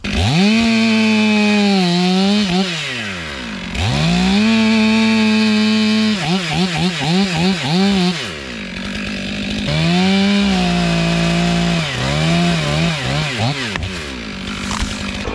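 Chainsaw cutting the top off a leaning tree during tree work: loud, close saw bursts that rev high then bog and wind down repeatedly over about fifteen seconds, with no talking.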